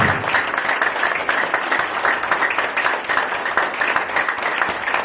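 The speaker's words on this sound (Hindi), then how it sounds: "एक बार जोर से ताली बजाएं, जितना आपके अंदर जोर है, जोर से" Loud, sustained applause from a large church congregation during a sermon, dense clapping filling the whole stretch without a break.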